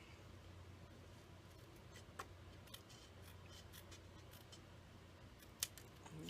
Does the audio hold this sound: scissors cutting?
yes